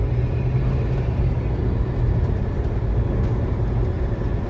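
A car drives close behind in traffic, heard as a steady low road rumble and engine drone that stays near and continuous with no talk.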